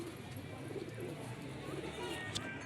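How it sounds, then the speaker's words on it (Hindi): Soft pigeon cooing sits low beneath a steady background murmur, fairly faint and continuous, with a brief higher chirp near the end. "ये मेरी मोती कबूतरी है।"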